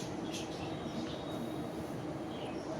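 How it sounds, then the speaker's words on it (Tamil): Train passing through Chennai Egmore railway station, a steady broadband rumble of wheels and carriages filling the whole stretch with faint high squeals on top, close and continuous with no voices. "ட்ரெயின் வந்துகிட்டு இருக்கு, போயிட்டுருக்கு."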